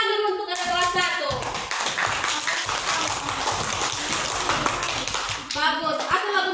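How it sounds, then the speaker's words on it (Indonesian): A group of first-grade schoolchildren claps together in lively, uneven applause, close by, with a voice speaking briefly at the start and end. "Tepuk tangan dulu untuk anak kelas 1."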